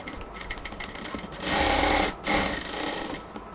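A sewing machine double-stitches ladies' pants, its motor whirring in a loud sustained run in the middle of the clip, briefly stopping and restarting before tapering off.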